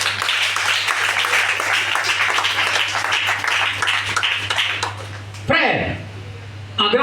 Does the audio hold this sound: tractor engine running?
no